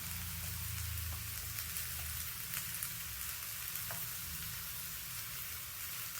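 Paneer scramble with fenugreek leaves sautéing in a pan, a steady close sizzle and fry with a few light stirring scrapes, no talking.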